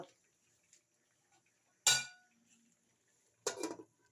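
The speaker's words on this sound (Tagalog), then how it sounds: "tinakpan ko muna takpan ko muna" A metal lid set onto a cooking pot while bamboo shoots with water spinach simmer on a home stove, two distinct clanks about a second and a half apart, close and alone, with faint kitchen clinks between.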